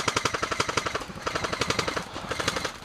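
Rapid bursts of airsoft machine gun fire crackle close by during a UK milsim skirmish, a steady rattling stream of shots with brief pauses between strings, loud and unbroken by talk.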